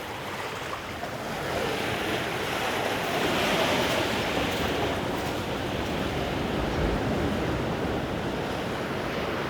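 Waves wash onto a sandy beach beneath sea cliffs and caves at Covesea near Lossiemouth, Moray, Scotland, a continuous broad surf roar with some wind rumble, swelling slightly in the middle.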